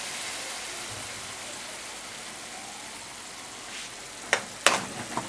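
Chicken jalfrezi with a piece of tomato simmering and reducing in a pan, a steady soft sizzle and bubble throughout, with a few sharper clinks or stirs near the end.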